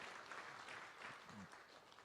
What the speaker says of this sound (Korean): 다시 한번 큰 박수로 격려해 주시면 고맙겠습니다